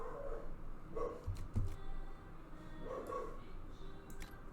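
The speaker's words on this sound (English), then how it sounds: "Yeah, my dogs are barking." Dogs barking in the Dragon Age Inquisition game in Val Royeaux, a few muffled barks and yips spaced through a few seconds over low background hum, with no talk.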